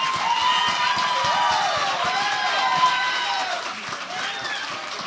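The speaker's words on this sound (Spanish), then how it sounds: "No aplaudan, ¿no?" Audience at a Spanish-language book interview event bursts into a dense, steady round of clapping mixed with some cheering, moderately loud and fading slightly toward the end, with a voice speaking over it.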